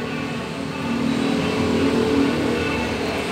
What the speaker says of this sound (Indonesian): Terdengar suara proses mesin.